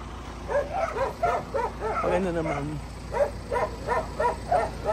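Several dogs at a house bark and yip in short repeated bursts, fairly close, with a whimpering whine in the middle, while people talk nearby.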